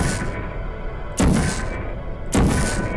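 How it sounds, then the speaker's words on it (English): Portal gun fired in the video game Portal, played in VR with head aiming: two sharp booming shots about a second apart, each decaying into a short whooshing tail over a low hum. "I'm firing all of these portals using only my head for aiming"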